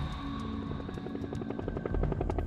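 National Guard helicopter arriving, its rotor thumping in a steady rapid beat with a constant engine whine, loud and close, swelling slightly louder toward the end.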